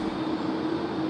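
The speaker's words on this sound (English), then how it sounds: "We also had the A330 coming in." A Qantas Airbus A330 airliner coming in to land at Sydney Airport, heard as a steady, distant jet engine rumble with a faint droning tone and no voices.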